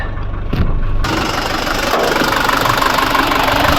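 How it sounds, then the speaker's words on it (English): An old 1982 Mercedes-Benz W123 diesel engine with some blow-by idling close up, a steady knocking clatter and rumble that continues throughout with no speech. "For the guys who like the engine sound,"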